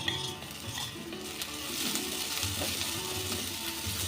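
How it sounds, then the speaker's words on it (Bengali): Garlic, ginger and green chili frying in oil after onions, with a continuous close sizzle and scraping stirs of a spatula against the pan. "আদা, কাঁচা লঙ্কা, রসুনটাও আর একটু ভেজে নেব।"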